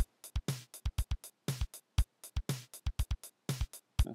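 A sequencer-programmed drum pattern plays alone, with punchy low bass drum thumps set among crisp hits in a steady, syncopated groove.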